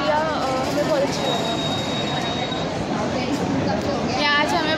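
Railway station in Guna with trains passing: a continuous loud rumble of moving rail cars with squealing wheels and metallic screeches, under a busy background.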